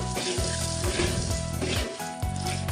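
Puffed rice is stirred into melted jaggery in a pan with the stove just turned off, a dense close rustling and scraping in uneven bursts, with a low rhythmic hum underneath.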